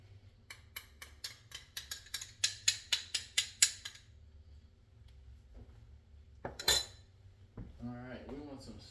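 A metal utensil scrapes and clinks against a Teflon pan with garlic, a run of about a dozen rhythmic close taps followed by a louder scrape and a brief voice at the end.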